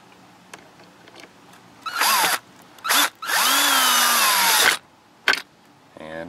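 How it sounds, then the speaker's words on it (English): Power screwdriver driving a screw back into a seat belt trim cover on a 2012 Dodge Journey, three close whirring bursts, the last sustained for about two seconds, followed by small clicks. "And then get the screwdriver."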